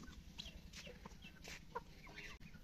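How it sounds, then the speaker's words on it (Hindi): Roosters and hens clucking close by in a farmyard, a steady run of overlapping clucks and short calls layered over a constant low background drone. "ये देखें भाई ने मुर्गे रखे हुए हैं,"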